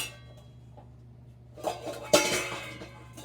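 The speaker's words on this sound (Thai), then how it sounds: "โทษแหมดึงหม้อแล้วเสียงดังเลย" A metal cooking pot is dragged in a home kitchen, first a faint scrape over a low steady hum, then a sharp loud clatter and rattling of pots and pans that rings out and fades.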